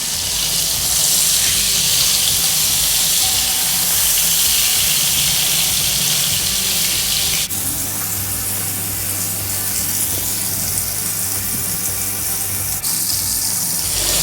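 Mutton chapli kebab frying on a tawa griddle gives a loud, steady hiss of sizzling fat that shifts in tone partway through, over a low background hum.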